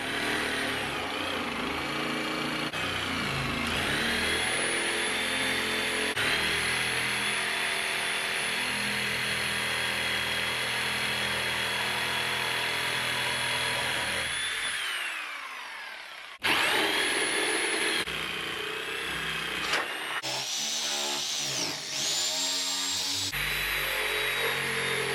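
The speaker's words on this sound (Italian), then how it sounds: "Altrimenti ridisegniamo la paletta dietro e tagliamo con il seghetto alternativo." An electric jigsaw cutting the wood of a guitar headstock on a Harley Benton Strat-style kit, a sustained loud buzzing whine that runs steadily, breaks off briefly, then resumes in shorter bursts, close up with no talking.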